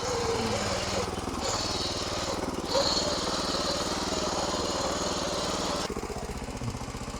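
A power weeder's small engine running in a farm field demo, a loud, steady, rapid pulsing drone close by that carries through the whole stretch with slight shifts in load.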